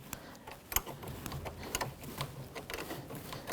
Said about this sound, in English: With a 10mm socket or wrench, you want to take the negative terminal and loosen up that bolt.